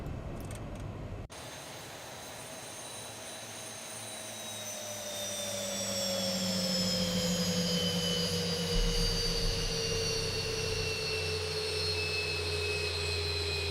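Boeing 737 MAX engines in the X-Plane 11 flight simulator spool down after shutdown, a high whine sliding steadily lower in pitch as a low rumble shifts beneath it, after a brief abrupt cut near the start.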